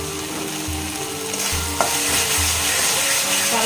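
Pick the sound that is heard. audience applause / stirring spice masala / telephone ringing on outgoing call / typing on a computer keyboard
stirring spice masala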